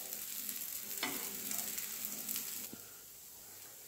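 Ragda patties frying in oil in a pan, giving a steady close sizzle that fades near the end, with no talking.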